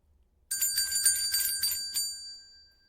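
A small bell jingles in a bright, shimmering run of closely spaced rings for about a second and a half, then lets its tone ring out and fade, close and clear with no voices.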